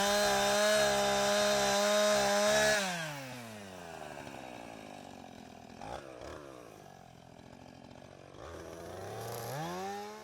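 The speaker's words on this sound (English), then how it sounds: "I have just started and enjoy carving bears with a chainsaw, or anything with a chainsaw" A chainsaw carves a wooden bear. The motor screams at full throttle, then drops to a lower, working drone as it bites into the wood, and revs up again near the end. No one speaks.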